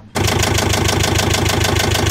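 A Volvo Penta boat engine, just reassembled after a thermostat repair for overheating, kicks in loudly and then runs at a steady, rhythmic idle close by with an even pulsing throb.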